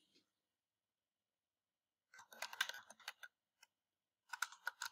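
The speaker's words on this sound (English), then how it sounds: "I need to take typing lessons." Someone types on a computer keyboard nearby. It is quiet, with two short bursts of rapid key clicks separated by silence.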